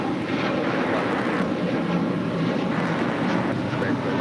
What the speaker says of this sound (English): next departure, American Airlines Flight 2952 heading to Chicago O'Hare